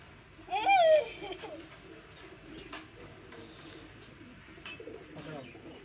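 A pigeon gives a short, loud coo near the start, followed by fainter rustling and scattered soft sounds in a quiet outdoor space.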